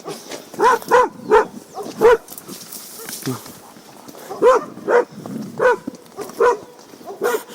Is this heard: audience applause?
no